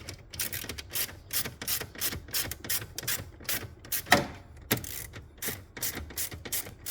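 A screwdriver removes T20 screws from dashboard trim in a MINI Cooper R50/R53, making rapid, close ratcheting clicks and scraping in irregular bursts with a sharper tick midway.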